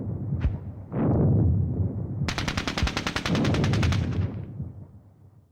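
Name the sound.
mortar and gunfire in Squad Battles Eagles Strike video game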